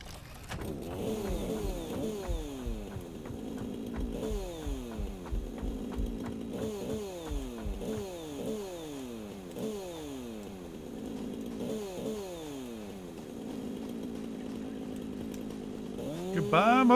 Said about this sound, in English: I'm also going to grab a chainsaw real quick and cut that tree down